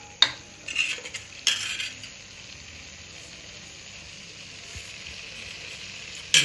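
Utensils clink and scrape as chapathi roll filling is stirred in a pan, a few sharp metallic knocks early on, then a steady soft sizzle underneath, with no talking.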